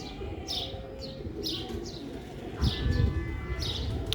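Old-breed Prince pigeons coo in a flock, repeated soft calls and chirps overlapping against a steady noisy background, with a louder burst near the end.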